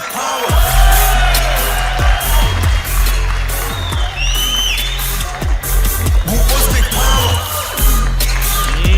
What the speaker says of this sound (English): You hear that roar of the crowd.